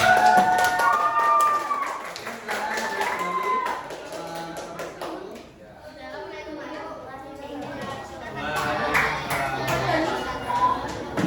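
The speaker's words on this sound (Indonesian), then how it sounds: "kita beri tepuk tangan yang meriah" Schoolchildren in a classroom clap in bursts amid lively chatter and children's voices, the clapping dipping midway before rising again alongside talk.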